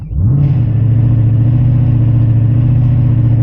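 A car engine revving hard and holding steady high RPM with launch control engaged, a loud close continuous drone with no speech.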